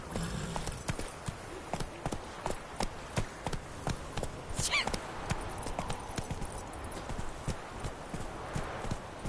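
Horse hooves clip-clop at a steady trot in The Witcher 3: Hearts of Stone, close and rhythmic, with a brief whinny partway through.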